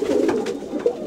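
Pigeons give a short, close, fairly loud burst of soft throaty cooing, heard alone.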